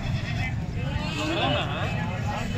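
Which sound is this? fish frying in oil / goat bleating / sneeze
goat bleating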